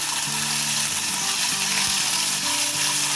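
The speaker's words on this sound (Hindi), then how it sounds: "जब ऑयल हल्का सा गर्म हो तो इसमें 1 टीस्पून लहसुन अदरक पेस्ट वो डाल दें और पेस्ट को भून लें।" Ginger-garlic paste sizzles in lightly heated oil for a chicken sandwich filling, a steady close-up hiss and crackle with a soft tonal melody running faintly underneath.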